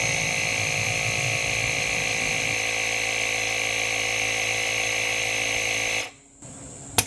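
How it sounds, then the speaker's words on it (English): Electric pump inflating an e-scooter tyre to 48, a steady close mechanical drone that runs for about six seconds, changes pitch slightly midway, then cuts off abruptly. "Connect the pump."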